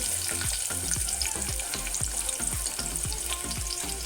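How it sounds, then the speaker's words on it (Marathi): Chopped onion sizzles steadily in hot oil inside a pressure cooker while cooking chana masala, with a quick run of stirring scrapes repeating about every half second, close and fairly loud. "तर मी आता फोडणीला कांदा घालते"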